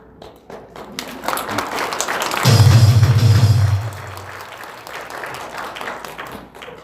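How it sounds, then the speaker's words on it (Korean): A rally audience breaks into a short, dense burst of applause welcoming a speaker, swelling loudly for about a second and a half before fading back into the hall's background noise. "큰 박수로 모시겠습니다"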